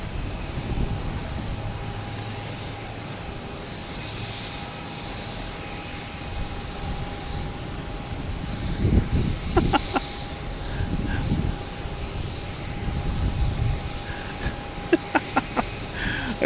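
An American Airlines A319 arriving from Chicago at Boston Logan airport, a distant jet engine roar building and swelling under steady background noise, with a few clicks and taps nearby.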